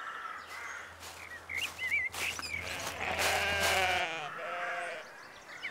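Several sheep bleat in overlapping calls, some near and loud, others farther off, with a low steady hum underneath.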